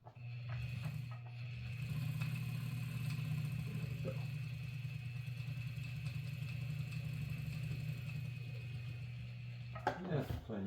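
An Adler 152 industrial sewing machine runs steadily with a low, even motor hum and a faint rhythmic stitching chatter, ending in a brief clatter as it stops; a voice talks over it at one point.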